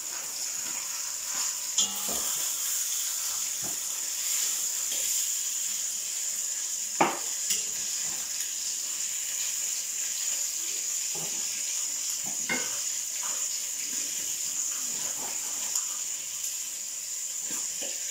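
Onions frying in a pan give a steady, even sizzle throughout, with a few faint utensil clinks scattered on top.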